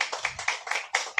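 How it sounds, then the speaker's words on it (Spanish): A church congregation claps in welcome, a few close, sharp hand claps at an uneven rhythm within a brief, fairly quiet moment. "Vamos a recibirlo con un fuerte aplauso,"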